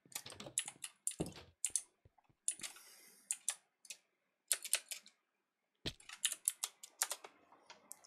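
Keystrokes clatter on a computer keyboard in irregular bursts of close, crisp clicks with short pauses between runs, no voices over the typing.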